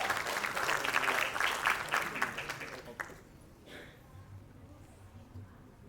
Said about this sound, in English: So give applause to Mr.